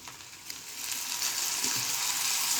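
Tomatoes dropped into hot oil with curry leaves for green chilli sambar, a steady close sizzle of frying that swells louder after the first second and holds, with no talking.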